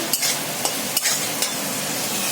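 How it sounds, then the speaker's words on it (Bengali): Spice paste frying in a pan, a close sizzle broken by four quick stirring scrapes of a spatula at uneven intervals. "মশলাটা কষাচ্ছি।"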